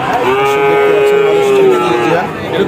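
A single long, steady moo from a Holstein Friesian heifer close by, lasting about two seconds over faint background noise.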